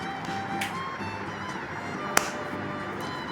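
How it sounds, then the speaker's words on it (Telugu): A single sharp hand clap for a clap-sensor LED circuit on a PCB, one brief crisp snap against a steady background hum with no one talking. "క్లాప్ చేస్తేనే మనకు మన ఎల్ఈడి అనేది ఆన్ అవుతుంది అనమాట"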